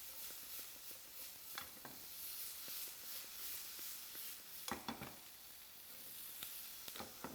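Abalone sizzles in butter in a pan, a steady quiet frying hiss broken by sharp crackles and stirring clatters, with no talking.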